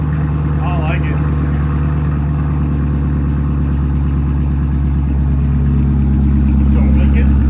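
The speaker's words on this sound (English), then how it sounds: "We're about to go ahead and start it with no mufflers." A 2018 Camaro engine idles without mufflers, a loud, steady, raw low rumble throughout with a faint rise near the end, and people talk over it.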